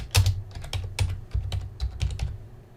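Quick, close clicking of fingers typing on a computer keyboard, a steady run of distinct keystrokes with short pauses, no voices.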